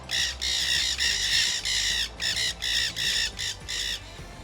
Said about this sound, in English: Can you hear the green parrots trying to compete with us?